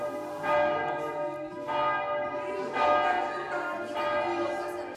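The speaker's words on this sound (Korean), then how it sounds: "내부 잔디에서 종소리를 들으며 여유를 즐깁니다." Church bells at the Mont-Saint-Michel abbey in France ring out in about four loud, resonant tolls, each swelling and lingering into the next.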